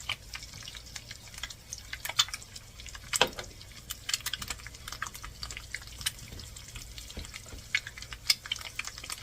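Eggs fry in a pan, giving a quiet sizzle broken by scattered pops and crackles spread unevenly across the stretch, with no talking.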